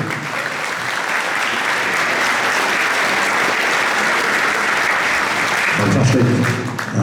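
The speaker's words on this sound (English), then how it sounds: "what about a round of applause for fantastic bass playing Sonny Williams." An audience applauds at a youth jazz orchestra concert in a church, a dense and loud wash of clapping that holds steady for several seconds and swells slightly near the end.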